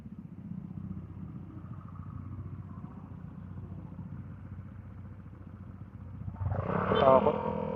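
A motorcycle carrying a child as passenger passes on a street, its engine a low steady drone that swells louder and nearer toward the end amid rattling traffic clatter.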